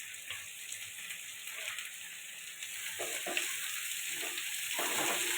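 Cabbage, potato and shrimp ghonto frying in a pan, a steady close sizzle with intermittent stirring scrapes, moderately quiet and with no talk.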